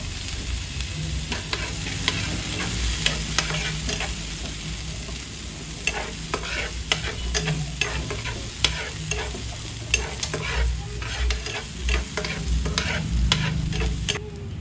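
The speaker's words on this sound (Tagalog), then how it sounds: "lalagyan na natin itong ating bawang at sibuyas hanggang maging brown" Garlic and onion frying in a pan until brown, a continuous crackling sizzle with frequent quick scrapes and clicks of a spatula stirring, close and fairly loud throughout.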